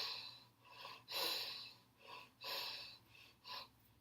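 Slow, deliberate breaths during a standing yoga pose, about five airy inhales and exhales in an uneven rhythm, close and soft with no talking.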